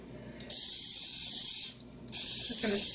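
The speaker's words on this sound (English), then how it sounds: "just going to spray that again" Cooking spray hissing onto a waffle iron in a home kitchen, two close bursts of about a second each separated by a short pause, loud and steady, with faint handling noise at the end.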